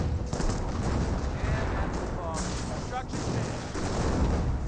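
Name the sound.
25-pounder artillery barrage, Company of Heroes video game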